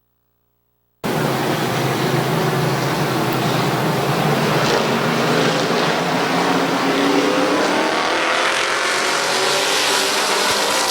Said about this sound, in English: 8-lap heat race for the open street stocks.